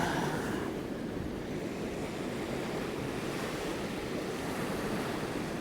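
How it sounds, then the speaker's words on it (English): Ocean surf breaking and washing steadily during an outdoor Survivor reality-show challenge in the Cayman Islands, a continuous broad roar of waves with wind noise buffeting the microphone and no voices. "The waves are gonna make it a little bit more difficult for you guys from a balance perspective"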